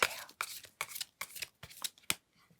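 Tarot cards being shuffled by hand in a series of about six crisp, riffling bursts with short pauses between, close and fairly quiet, the last burst sharp and brief.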